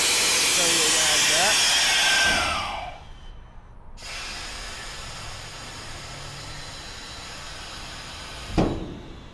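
A manual air valve on a 2023 Armor Lite belly dump trailer releases a loud, close hiss for about two seconds as the gates open, then a quieter air rush continues, ending in a short sharp burst.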